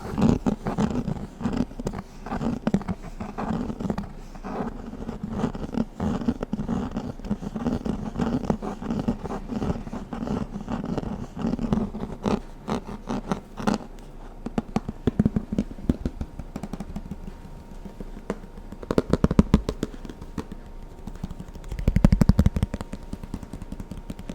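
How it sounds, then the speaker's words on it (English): A Snapware plastic container lid snapped and clicked over and over, close and crisp, with dense rapid clicking and crackling running throughout and a few louder bursts near the end; no talking. "This is a snapware lid. That makes a really satisfying sound."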